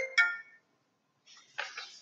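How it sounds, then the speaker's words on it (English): A phone rings faintly in a quiet room, two short electronic ringtone bursts separated by a pause. "sorry, I had a phone call there."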